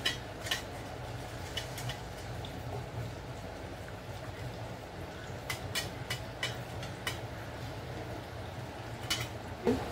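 A spoon scrapes and taps against metal idli steamer plates while they are greased with oil, giving sparse, sharp metallic clinks and ticks over a faint background hum.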